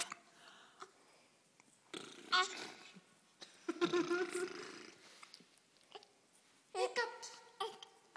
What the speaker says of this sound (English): I think you got the hiccups.